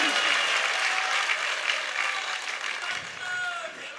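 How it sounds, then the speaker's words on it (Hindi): A hall audience at a Jain scripture discourse breaks into loud, dense applause that holds steady for several seconds before thinning slightly toward the end. "ताली तो ऐसे बजा रहे जैसे कभी सम्मेलन चल रहा हो"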